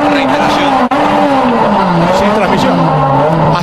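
A Turismo Nacional Clase 3 race car at Termas, with its transmission failed, revs loudly and continuously. The engine note rises and falls while the car goes nowhere, and there is one brief dropout near the start.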